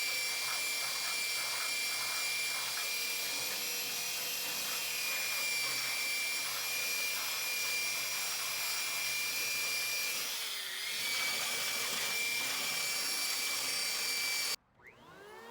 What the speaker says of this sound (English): Here I am using a belt sander to remove any of the rough areas around the screws.